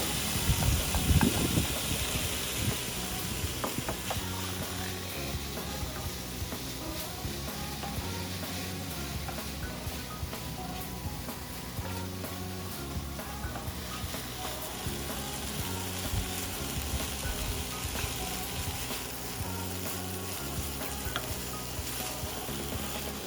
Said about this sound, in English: Now we're just going to put the rice in.